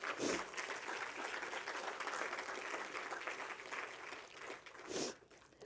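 Audience applause fills a lecture hall during an inaugural professorial lecture, a steady wash of clapping lasting several seconds, fading briefly and swelling again near the end before dying away.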